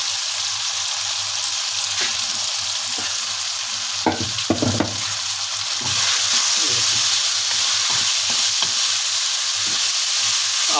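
Capsicum frying in a pan with minced meat, a steady close sizzle broken by a few clattering stirs of a spoon against the pan partway through.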